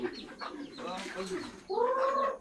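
Chickens cluck and call close by at a loft in Atimonan, Quezon, mixed with people chatting in the background; a louder drawn-out fowl call rises near the end.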